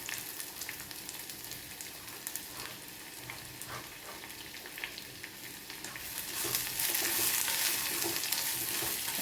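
Sliced onions fry in oil in a clay pot for a homemade egg roast, giving a soft close sizzle with stirring scrapes that swells louder near the end.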